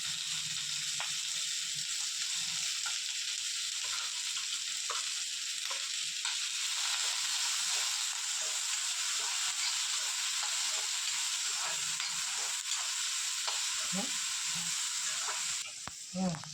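Onion, ginger and garlic frying in a pan for a spicy chutney, a continuous close sizzle with scattered stirring scrapes and clinks, ending in a few louder knocks.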